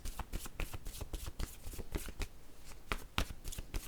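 Playing cards being shuffled and drawn by hand, a run of quick riffling flutters and soft snaps, close up and fairly quiet, with no voices.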